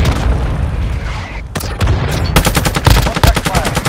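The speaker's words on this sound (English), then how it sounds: "Hostile warhead strike incoming." Warhead strike exploding in Warzone Mobile, a battle royale game played on an iPhone 11: a loud rumbling blast settles, then sharp booms break out and give way to a rapid, dense string of detonation-like bursts, close and heavy.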